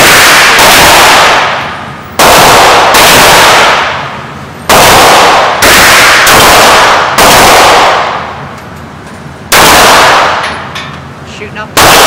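Gunshots at an outdoor shooting range, about seven loud, sharp reports spaced irregularly a second or two apart, each ringing out and decaying, with faint talk between.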